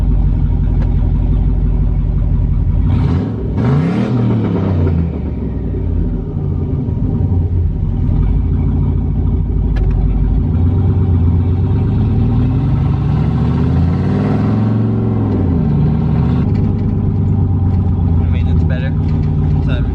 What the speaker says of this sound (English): I'm just gonna click it in neutral here and give it a little blip, see how it sounds